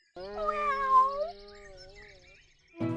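A single long, drawn-out cat meow rises and fades, close and clear, followed by a short burst of another sound at the end.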